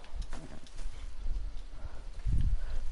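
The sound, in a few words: wild horse in the video game Red Dead Redemption 2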